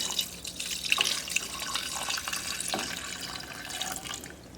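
Water poured from a tap or jug into rye sourdough dough made with two flours and salt, a steady close splashing trickle running the whole time with no talk.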